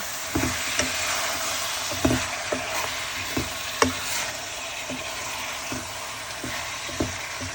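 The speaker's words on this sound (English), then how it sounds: "And then we begin to fry." Chicken livers frying in a pan give off a continuous loud sizzle, broken by regular soft knocks of a utensil stirring them, with no talking.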